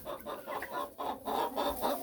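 Several chickens cluck and murmur close by in a steady, busy chatter, with no voices.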